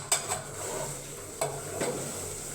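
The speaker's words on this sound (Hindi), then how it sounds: "और हम इसको अब मिक्स करेंगे" Poha being stirred in a degchi pot, a few sharp metallic scrapes and taps of a spoon against the pot over a soft, steady background hiss.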